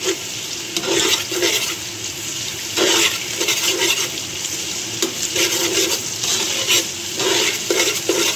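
Onions frying in oil in a pan for chole biryani, a steady loud sizzle with bursts of stirring scrapes coming and going throughout.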